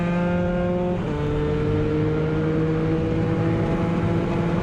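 Several Moto3 racing motorcycles at an FMRRA Grande Corsa road-race round bunch together into a corner, their engines a loud, continuous high-pitched drone with shifting tones as the pack passes close by.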